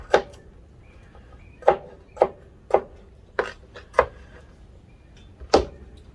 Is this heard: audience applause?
no